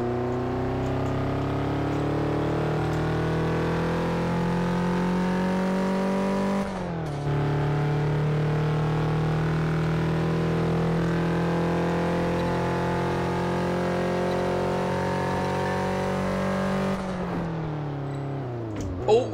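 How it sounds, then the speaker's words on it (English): Steady car engine drone in the racing game Test Drive Unlimited 2, holding a sustained pitch with two brief gear-shift dips, loud and alone with no talk. "Andrew Sullivan, your car is slow"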